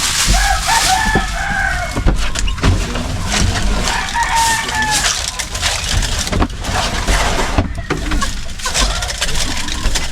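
A rooster crows loudly and close by, with repeated clucking from chickens between the crows, over a busy rural background with a faint engine and occasional voices.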